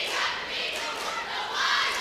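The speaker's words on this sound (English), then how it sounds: "Huge crowd on hand here at Wayzata." Crowd noise at a boys high school basketball game between Hopkins and Wayzata, a faint, distant roar of cheering and shouting in a gym that swells and dips briefly.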